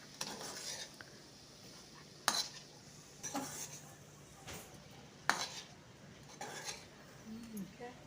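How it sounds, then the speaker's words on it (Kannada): A utensil stirring and mixing salted vegetable food in a pan, faint scraping strokes coming at irregular intervals with the odd clink, over a low sizzle. "ನೋಡಿ ಈಗ ಮಿಕ್ಸ್ ಮಾಡಿಕೊಳ್ಬೇಕು ಮಿಕ್ಸ್ ಮಾಡಿಕೊಂಡು"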